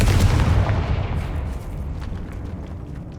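In the Hogwarts Legacy game, a Confringo blasting spell goes off in a loud, deep explosive boom with a rumbling tail that fades over a few seconds.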